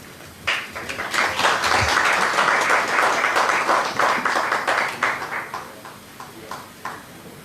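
Conference audience applauding a panel, a burst of dense clapping that swells and holds before tapering off into a few scattered claps.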